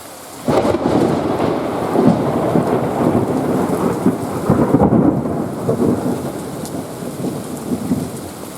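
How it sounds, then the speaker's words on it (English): Heavy, steady rain pours down, loud and close, heard from a porch, with a low rumble of thunder rolling underneath throughout. "So yeah, it's raining here"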